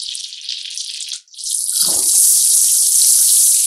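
Ginger garlic paste hitting hot oil and butter with cumin, a sharp bright hiss that briefly drops out then bursts into a loud, sustained sizzle with a low thump as the paste lands.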